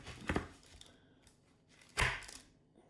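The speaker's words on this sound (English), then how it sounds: "So what I usually do is I chop it like this." A ginger nut chocolate slab is chopped with a knife, giving two distinct hard thunks about a second and a half apart, close and fairly quiet, with no one talking.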